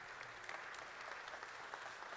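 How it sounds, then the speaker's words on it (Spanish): A congregation at a men's church retreat claps strongly, a brief, even burst of dense applause heard at a distance and fairly faint. "le das aplauso fuerte"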